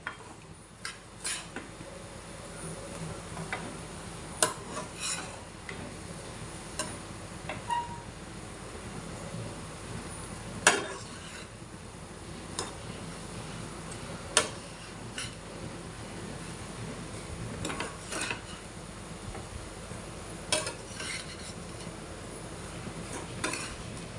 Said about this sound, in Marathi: गूळ फक्त मिक्स होईपर्यंत आपल्याला परतून घ्यायचं आहे